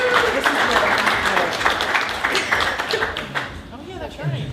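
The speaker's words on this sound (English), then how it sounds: "Give Margaret a round of applause," An audience applauds for Margaret at a Buz and Lee Norwood history talk, dense clapping running steadily throughout and thinning slightly toward the end, with a voice briefly audible under it.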